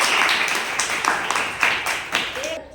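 A group of schoolgirls at a self-defence and safety talk claps for a couple of seconds, a dense patter of applause that fades out at the end.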